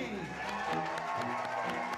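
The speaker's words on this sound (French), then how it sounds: "On applaudit bien fort les jeunes mariés, monsieur et madame Eric Gualdoni." Wedding guests clap and cheer as the newlyweds enter the reception, a busy crowd applause that blends with chatter and an announcer's voice over it.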